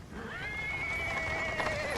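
A small horse whinnies and neighs with a long drawn-out call, heard close and clear, with faint hoof clip-clop as it pulls a cart over paving stones.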